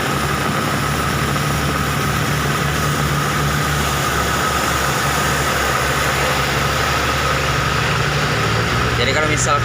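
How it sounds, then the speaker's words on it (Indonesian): A road washer truck's engine, a steady loud diesel rumble and hum heard outdoors on a road, close and continuous throughout. "nah kalau ini dia mobil washer tuh"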